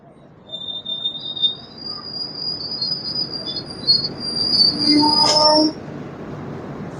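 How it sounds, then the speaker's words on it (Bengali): The Ahmedabad to Puri Express passes with steady rolling rumble and high, sustained wheel squeals that rise and waver, peaking in a loud screech before fading, while crickets chirp in the background. "দেখো আমেদাবাদ টু পুরী এক্সপ্রেস এটা"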